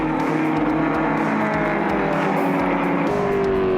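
Racing cars roar past on a circuit, a yellow Fiat 131 Abarth leading a yellow and black Ford Escort, engines droning loud and continuous with rising and shifting pitch as they pass close by.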